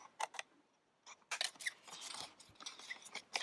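Scissors snip through paper in short crisp bursts, a few quick cuts then a longer stretch of rustling snips, close and quiet with no speech.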